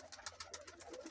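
White pigeons coo softly in a loft, a low, faint, rounded murmur repeating in gentle pulses, close by and with no voices over it.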